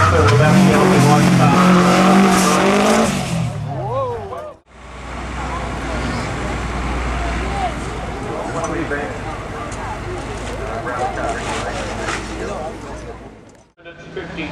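Well-prepared Subaru race cars tear past at the Leyburn Sprints, with engines rising and falling in pitch as they pass close by. Tyres squeal, and a commentator talks over most of the action.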